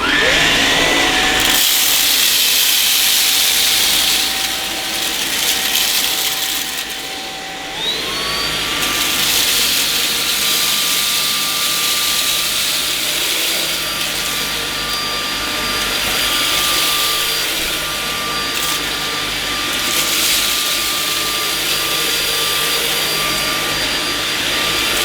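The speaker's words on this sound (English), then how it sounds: "So I'll just quickly show you the vacuum in action." A Samsung VS15T7031 cordless vacuum cleaner runs steadily on carpet with a loud, high whine and airy rush; its pitch steps up partway through as the motor speeds up.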